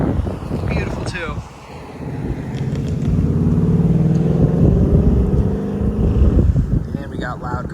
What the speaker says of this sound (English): And we got loud cars behind me.